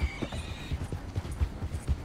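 Horse in a Red Dead-style open-world video game, hooves clip-clopping at a steady walking rhythm close by, with a whinny over them and music faint in the background.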